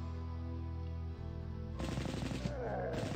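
Gunfire in the 1997 PC strategy game Warhammer 40k: Final Liberation arrives as Ork overwatch fire, a burst of rapid game shots crackling in after a low droning hum, fairly faint overall.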